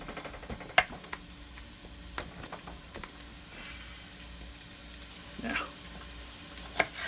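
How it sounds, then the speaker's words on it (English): Cabbage soup fries and sizzles steadily in a pan while being stirred, with a few sharp utensil clicks and scrapes breaking through the continuous hiss at close range. "Get that stirred around a bit."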